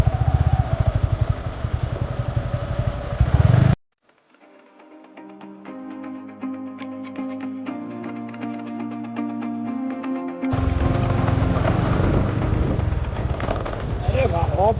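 Motorcycle engine running on a Sunday ride to Zanzari Waterfall near Ahmedabad, Gujarat, a loud close rumble at the start and again at the end, separated by a quieter stretch of sustained tonal sound.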